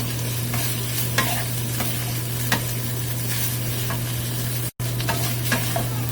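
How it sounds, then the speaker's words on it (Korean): Curry ingredients, potatoes among them, are stirred and fried in a pan with a steady sizzle and repeated scraping strokes of a utensil, close and loud over a constant low stove hum. "남겨놓고 또 추가 볶아줍니다."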